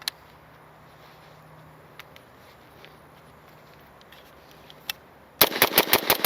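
A quick burst of about five sharp, suppressed shots from a SIG SLX 556C rifle fires near the end, after several seconds of quiet with a few faint clicks.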